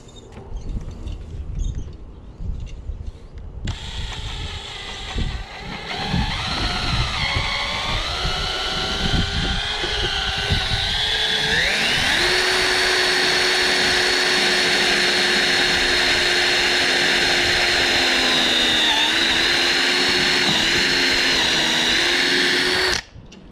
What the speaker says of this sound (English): Obviously gonna need a wood slash kind of a combination bit to get through the metal.